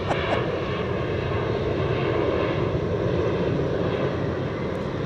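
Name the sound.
Beechcraft 1900 turboprop aircraft at DFW airport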